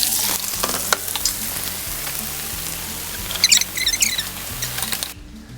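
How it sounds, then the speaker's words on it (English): Yellow sweet onions sizzle and crackle as they fry in very hot oil for fried rice, a steady close hiss with brighter popping bursts toward the end before cutting off. "the oil seems to be very hot now. I'm gonna go ahead and put my yellow onions in it"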